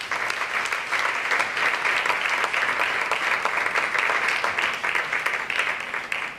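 An audience claps for a panelist invited onstage at a round-table on surrealism, the applause full and sustained, bright and steady throughout.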